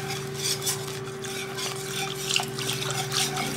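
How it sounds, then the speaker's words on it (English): Gravy made with shelf-stable Gossner carton milk is stirred in a pan: soft, continuous scraping and gentle liquid swishing, faint and close, with a low steady hum underneath. "The name of the game with gravy is stir,"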